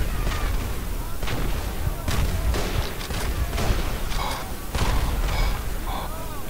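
Rifle and artillery fire crackle across a World War I battlefield in the game Verdun, with many sharp shots and booms at varying distances forming a continuous barrage.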